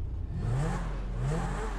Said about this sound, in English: let's rev this shit up and see how it is.